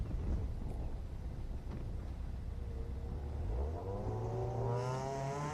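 E Street Miata launching off the line at an autocross event at St Lucie Fairgrounds, engine revving and rising in pitch as it pulls away, heard at a distance through steady wind and background noise.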